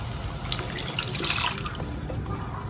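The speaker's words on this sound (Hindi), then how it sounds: "अब वक्त आ जाता है कि हम इसके अंदर पानी डालें।" Water is poured into a pan of kofta gravy, a close splashing trickle that swells and fades over a few seconds.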